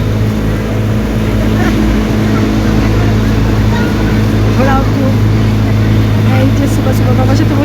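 A loud boat engine drones steadily throughout, a constant low rumble with water and wind noise over it.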